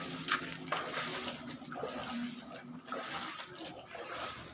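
Floodwater runs and splashes steadily through a street in a continuous rushing wash, near and fairly loud, with faint voices underneath.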